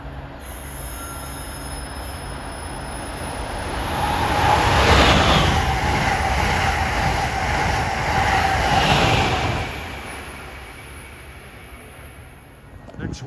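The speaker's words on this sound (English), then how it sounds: "Now approaching at 255 is 2121, Acela, New York to Washington." An Amtrak Acela high-speed train, number 2121 running New York to Washington, approaches Princeton Junction as a broad rushing roar that builds to a peak around the middle, with wheel squeal and rail noise, then eases off.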